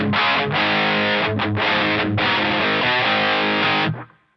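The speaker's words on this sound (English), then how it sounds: "So that'd be pretty much the maximum distortion I would use in the night" An electric guitar played through a DOD Gunslinger distortion pedal at maximum distortion rings out as loud, thick chords with a few brief breaks, then cuts off and decays quickly at the end.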